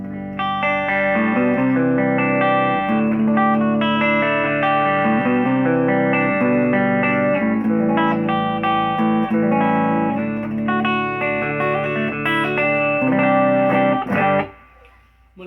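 A loud electric guitar played through an amp, chords ringing with a touch of distortion and shimmer, then cutting off abruptly near the end.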